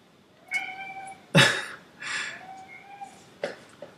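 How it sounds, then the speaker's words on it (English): A cat meows several times in short, separated calls, near and fairly clear, with one louder, rougher yowl in the middle and no talk over it. "Hey kitty, what's the matter?"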